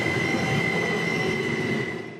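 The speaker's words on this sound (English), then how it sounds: "the train was reliable." OC Transpo light rail train running on its tracks, close and loud, with a steady rumble, a sustained squeal from the wheels and a faint clatter, fading slightly at the end.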